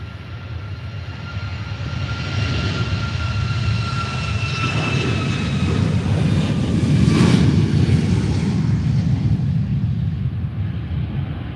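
A Ryanair Boeing 737 MAX at Faro Airport roars past with a continuous jet engine rumble and whine, swelling slightly toward the middle as it draws nearest, with no one talking.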